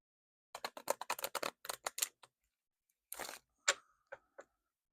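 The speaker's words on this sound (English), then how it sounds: "going to give this a good shuffle here" Tarot cards being shuffled by hand, a quick run of crisp riffling flicks and slaps, then a pause and a few separate snaps and taps, close and fairly quiet.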